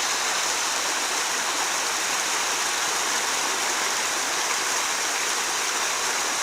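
Steady, hissing rush of a mountain spring stream flowing through a rocky gully, a continuous close wash of water with no pauses and no voices.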